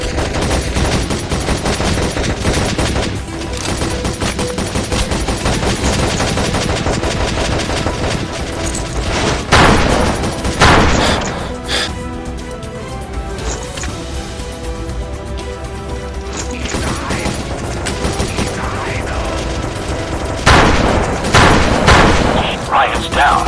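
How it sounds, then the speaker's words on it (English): Heavy gunfire from the mobile shooter Modern Combat Sandstorm: loud, sustained automatic bursts and booming blasts fill the whole stretch, with game voices talking over the barrage. "We're taking heavy fire here."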